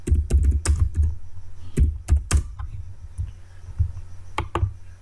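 Someone types on a computer keyboard in bursts of close, sharp key clicks with a few heavier thumps, as from the space bar, separated by short pauses, with no talking.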